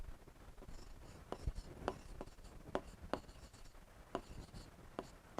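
Chalk or marker scratching across a classroom board during a biology lecture, a run of short strokes and taps in an uneven rhythm, close and moderately quiet over faint room background with no speech.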